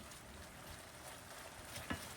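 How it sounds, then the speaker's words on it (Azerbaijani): Chicken pieces and chopped onion frying in oil in a pan, giving a faint, even sizzle throughout with one brief clink of a utensil near the end. "Soğanla bir yerdə də soğan tam yumşalana qədər qovururam."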